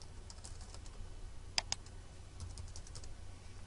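Soft, rapid keystrokes on a computer keyboard while text is entered into a web form, a quiet steady patter of taps with a couple of sharper clicks midway.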